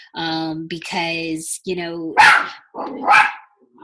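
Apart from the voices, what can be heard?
dog barking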